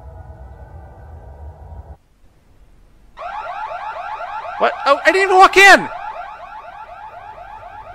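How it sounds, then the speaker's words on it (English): A car alarm wails loudly in a repeating cycling siren, with people talking over it before it begins. "shut that fucking alarm off"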